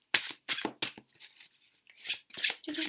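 Tarot cards being shuffled by hand, a series of quick crisp riffling bursts in an irregular rhythm, close and fairly quiet, with no talking.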